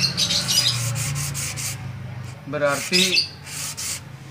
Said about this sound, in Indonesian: pengamplasan, ngilangin baret-baret, terus amplas yang dari kasar sampai halus